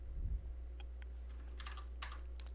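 A computer keyboard is used to type a value and press enter during SketchUp modeling, giving a few soft, scattered key taps after a brief low thump, all quiet over a steady low electrical hum.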